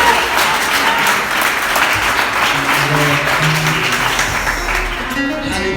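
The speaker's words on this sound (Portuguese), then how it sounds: "Você pode aplaudir Ele mais uma vez, amém?" A church congregation applauds loudly during a worship service, a thick, continuous wash of clapping that fills the room, with faint low tones underneath.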